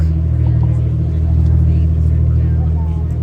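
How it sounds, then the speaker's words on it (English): Large diesel engines on a San Diego bay tour boat drone with a steady, loud low rumble that holds constant throughout. "We have large diesel engines powered by diesel fuel."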